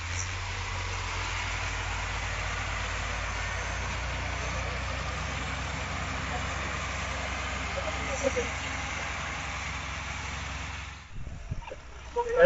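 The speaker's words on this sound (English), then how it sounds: "I'm here driving the tractor for the audience" A tractor engine idles with a steady low rumble outdoors on a warm day at a competition, a voice talking over it before the sound drops away near the end.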